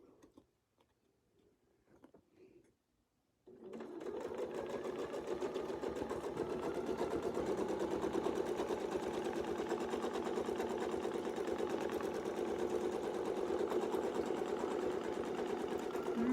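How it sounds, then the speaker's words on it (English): A quilting sewing machine runs steadily during free motion quilting, starting after a few seconds of near silence with faint handling noises, then holding a loud, continuous rapid stitching whir to the end. "you'll be able to control your stitches better if you have a machine that has that sound as you go."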